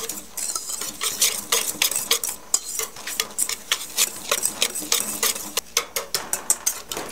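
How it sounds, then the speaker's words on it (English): Dry cake ingredients with sugar and cocoa are stirred briskly in a bowl, a utensil scraping and tapping in a steady rhythm up close. "So stir it all together."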